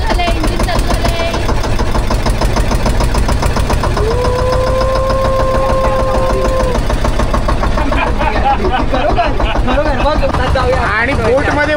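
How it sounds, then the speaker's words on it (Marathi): A boat engine on a backwater ride, running loudly and continuously with a knocking, rumbling drone close by, while people talk over it throughout. "इंजिन चालू झाले"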